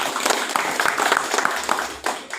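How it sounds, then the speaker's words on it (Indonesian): An audience at a regional advocates' congress claps hands steadily and densely for about two and a half seconds, close and loud, with some voices mixed in. "Tepuk tangan dulu."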